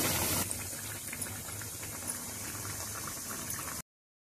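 Suji (semolina) vadas frying in hot oil, a steady close bubbling and crackling hiss that holds evenly and then cuts off abruptly before the end.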